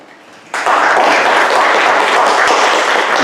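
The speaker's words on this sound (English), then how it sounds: "We're really both snaps and claps." A community gathering audience breaks into sudden, loud applause mixed with finger snaps, a dense, continuous patter that starts sharply and holds steady to the end.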